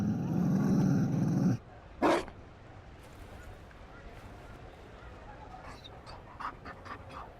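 Mabari war dog in Dragon Age Inquisition panting softly and snuffling, faint and intermittent in the latter half after game dialogue ends abruptly, with a brief loud bark-like burst early on.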